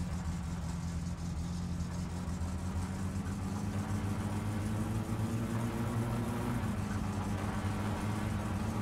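A car engine idles steadily in the driving game My Summer Car, its low rumble running unbroken and fairly close with no talk, the pitch edging up slightly near the end.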